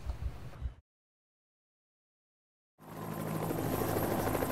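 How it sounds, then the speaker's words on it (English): A helicopter in the zombie survival game Project Zomboid circles overhead, its steady rotor thrum loud and continuous, starting after about two seconds of silence that follows a brief burst of earlier noise. "This chopper's been flying around, titting around my base for quite a while now."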